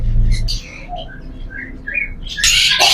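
Caged birds in a fancy bird shop, among them rosy-faced lovebirds, violet personata and Gouldian finches, give quick bright chirps and tweets close by, with a sharper burst of calls at the end and a voice faintly underneath.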